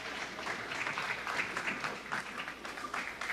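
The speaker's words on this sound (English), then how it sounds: "Let's send them off with a round of applause" Applause for the bowlers at a senior women's bowling match-play event, a moderate spread of clapping with individual sharper claps standing out, continuing evenly in a roomy bowling center.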